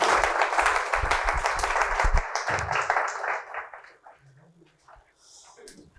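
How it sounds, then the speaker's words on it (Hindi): Applause from an audience at a CA-CAF orientation session, dense clapping for about two seconds that thins out and fades, with quieter scattered sounds and a brief low voice afterward. "तो बहुत सारी तालियों के साथ मैं चाहूँगा हम सर तलहा को बुलाएं।"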